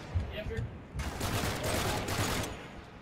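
Rapid bursts of gunfire from the Uncharted 3 video game, a dense fusillade that erupts after a quieter opening and holds steady at moderate loudness, with voices faintly under it.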